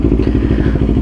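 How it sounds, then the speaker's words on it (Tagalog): A Honda CB650R motorcycle engine idles while warming up, a steady low rumble with a rapid pulsing beat, close and loud throughout. "Painit na din tayo ng motor."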